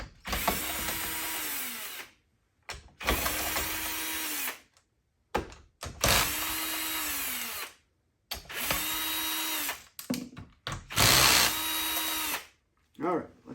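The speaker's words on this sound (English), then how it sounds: "in the interest of time, I'll use a drill" Electric drill removing bolts from a differential, running in about five separate whirring bursts of roughly two seconds each with short pauses between, close and loud.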